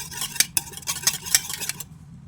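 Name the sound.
mixing wheat cake batter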